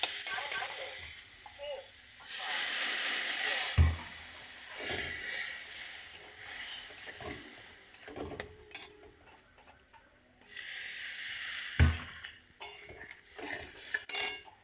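Water added to fried spices in a pan for boiling amra (hog plum), bursts of loud sizzling hiss alternating with metal spoon scraping and stirring against the pan, close up.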